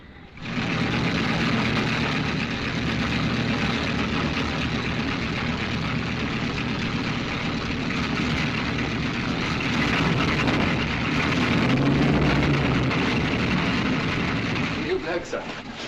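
Vintage aircraft engine droning steadily through take-off, a broad, loud roar that holds for the whole stretch before easing off at the end.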